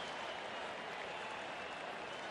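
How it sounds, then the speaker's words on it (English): Baseball crowd at a Milwaukee at Philadelphia game applauding a play, a steady, dense wash of clapping and cheering that holds evenly throughout without letting up. "what a reaction from the crowd"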